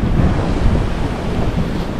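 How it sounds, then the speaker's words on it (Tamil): Rough, heavy sea surf pounds dark volcanic rocks on a Hawaiian shore, a continuous loud roar of crashing waves with strong wind buffeting the microphone and no voices. "சீற்றத்தோடு இருக்கு கடல்."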